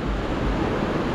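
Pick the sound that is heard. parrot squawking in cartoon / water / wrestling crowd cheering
water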